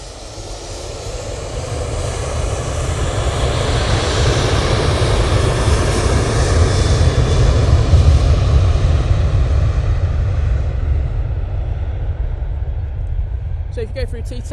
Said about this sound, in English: let's let this Ryanair go out.